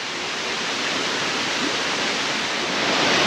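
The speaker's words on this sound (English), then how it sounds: "The bridges run on top of a lot of the water that rushes below into the various little lakes." Water rushing below wooden walkways into small lakes at Plitvice Lakes National Park, a steady, dense broadband roar that holds constant throughout and swells slightly near the end.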